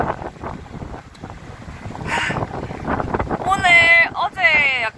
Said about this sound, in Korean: 바람이 많이 불어요